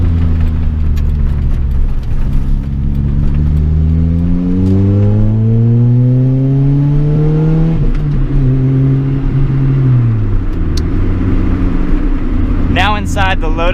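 A supercharged 2007 Lotus Elise sports car on the road, its engine droning loudly from inside the cabin and rising in pitch as it accelerates through the gears, with a brief drop at a shift.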